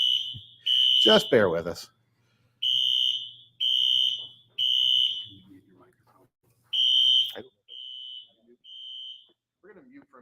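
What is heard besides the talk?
fire alarm system sounding during a test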